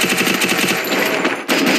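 Gunfire in a shooter video game: a rapid automatic burst of loud, close shots in quick succession, briefly broken before firing resumes.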